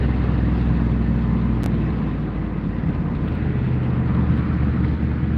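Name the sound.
car engine holding high RPM while cruising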